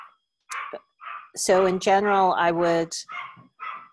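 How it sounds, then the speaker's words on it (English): A puppy barks in a string of short yips and one longer whining bark, close and loud, while someone talks in a brief gap. "That's my puppy. I apologize for the barking."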